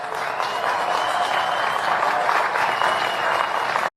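An audience applauds after a call for a Gaza ceasefire, a dense and steady wash of clapping that holds evenly for a few seconds and then cuts off sharply.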